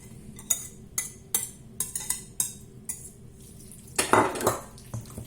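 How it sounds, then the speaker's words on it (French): Onions, peppers and mushrooms stirred in a pan for a potato and raclette cheese gratin: a spatula scrapes and clinks against the pan in a series of sharp, regular strokes, with a louder, longer scrape near the end and a faint background hum. "Je mélange tout."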